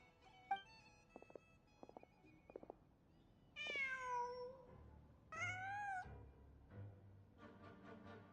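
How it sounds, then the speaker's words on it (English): A cat in the video game Genshin Impact gives a few soft, short chirps and then two longer, clear meows, heard alone and quite quiet. "Just a cat."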